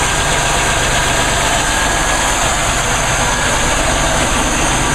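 A GM 3.4-liter V6 car engine idles smoothly and continuously up close, a steady unbroken hum with no talking over it.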